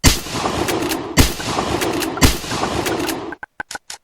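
Shotgun in Rogue Planet 2, three loud, evenly spaced blasts, each with a booming tail, followed by a quick series of short, sharp mechanical clicks and clacks as the gun cycles.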